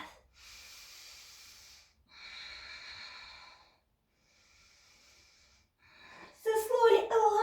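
Someone holding a high plank yoga pose takes slow, airy breaths, three soft hissing inhales and exhales separated by short pauses, followed by a louder, rougher burst of sound at the end.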